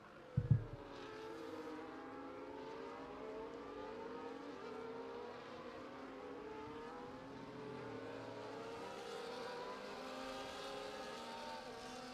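Race car engines in a racing video game drone steadily at high revs through the whole stretch, several cars layered together, with a brief thump near the start.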